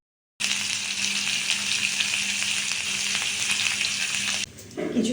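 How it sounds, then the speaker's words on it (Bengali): Boiled potatoes fry in hot oil with salt and turmeric, a loud, dense, steady sizzle that starts abruptly and runs unbroken for several seconds before briefly dropping away near the end. "সামান্য একটু নুন দিয়ে আর একটু হলুদ দিয়ে এটা ভাজবো।"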